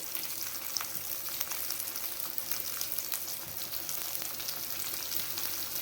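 Steady, dense sizzling of onion and tomato sautéing in a hot pan, continuous and close with no voices.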